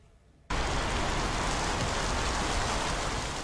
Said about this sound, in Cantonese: 由朝早開始斷斷續續出現狂風驟雨